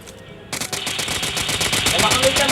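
Rapid bursts of automatic gunfire from a video game, starting after a brief quiet moment and continuing steadily, loud and close.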